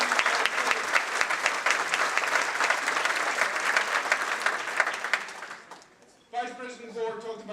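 Sustained applause from a large audience fills about six seconds with dense, even clapping, honoring a former Vice President, then fades as a single voice begins speaking.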